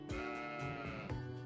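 A sheep bleats in a fantasy role-playing game, Trails of Cold Steel 4, giving two or three short wavering calls in close succession, clear and fairly near against quiet game music.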